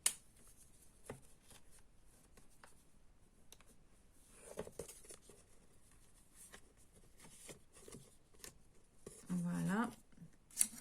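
Papers sliding onto the metal rings of a window-style album binder make soft paper shuffles and light rustling clicks, close and quiet, with a brief louder handling burst near the end.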